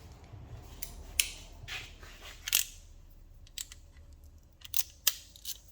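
A ratchet clicks in short, sharp bursts while someone works on a 1994 Chevrolet C1500 Silverado, the irregular clicks separated by quiet pauses, close up and fairly faint.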